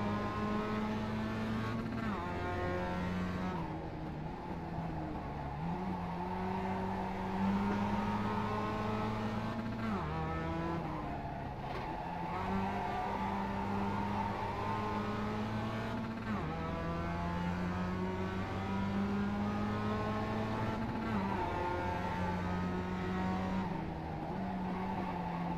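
Porsche 911 GT3 race cars racing at Watkins Glen in iRacing, a steady loud engine drone with repeated rising revs and downshifts through gear changes, sustained throughout.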